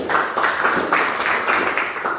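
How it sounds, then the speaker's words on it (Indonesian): A classroom or meeting group gives a hearty round of applause to a presenting group, with steady dense clapping from many hands filling the room for a couple of seconds. "Dan kita berikan tepuk tangan yang meriah kepada kelompok"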